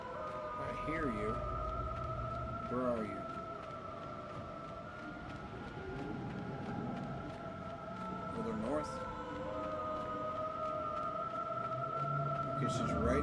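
A siren creature in the PS1 game God of War sings with wavering, rising and falling tones over a sustained drone, fairly faint, while a person talks over it.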